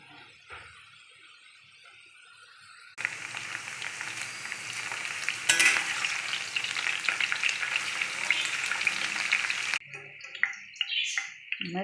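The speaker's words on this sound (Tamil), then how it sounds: "கடாயில் ஆயில் ஊற்றி வச்சு நம்ம இதில் போட்டுருவோம். வெண்டைக்காய் ஆயில் நல்லா ஃப்ரை ஆகட்டும்." Sliced okra hits hot oil in a kadai and crackles into a loud, dense sizzle that holds steady for several seconds before cutting out, with quiet kitchen clatter before and after.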